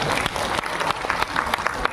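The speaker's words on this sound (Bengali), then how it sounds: "জোরে হাততালি দাও 3 নম্বর লাইনে জন" An audience claps loudly on request, a dense burst of applause running throughout with no talk over it.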